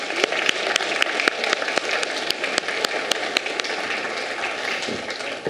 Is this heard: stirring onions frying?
no